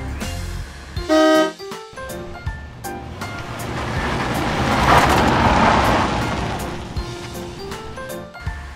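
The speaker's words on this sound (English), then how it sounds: "Taxi." Toy taxi horn from a kids' vehicle toy: a couple of short electronic honks near the start, then a washing surf-like swell of noise, all fairly loud with no talking.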